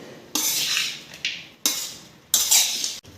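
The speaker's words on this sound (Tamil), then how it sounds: "நல்லா மிக்ஸ் பண்ணி விட்டுருங்க." Tamarind rice being mixed in a metal pan, three or four bursts of scraping and clinking from a spoon against the pan, each lasting about a second, close and fairly loud with short pauses between strokes.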